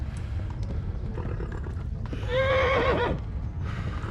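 A horse in the video game Kingdom Come: Deliverance, during a raid on Skalitz, lets out a loud, wavering whinny midway through, over a constant rumble of galloping hooves.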